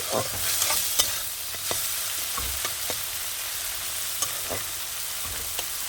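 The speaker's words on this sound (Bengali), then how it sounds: "এবার আমি লবণ আর হলুদ দিয়ে আমি ভেজে নেব তো চিংড়ি মাছগুলো ভাজা বসিয়ে দিয়েছি" Prawns fry in oil with salt and turmeric, giving a steady close sizzle with scattered clinks and scrapes of stirring throughout, no voices.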